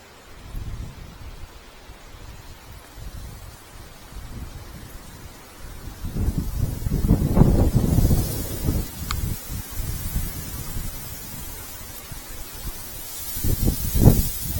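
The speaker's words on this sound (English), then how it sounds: "Said the wind was going to gust up to about 25, if not more, today, and I think we're now experiencing it." Strong gusting wind by a stream, buffeting in rough surges that build to heavy rumbling blasts in the middle and again near the end, with rustling between gusts.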